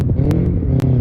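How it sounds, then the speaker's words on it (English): Race car engine revving hard at close range, a loud continuous roar with a steady low drone and a few sharp clicks over about a second, with no voices. "Motor noises."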